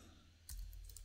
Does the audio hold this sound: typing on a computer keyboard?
yes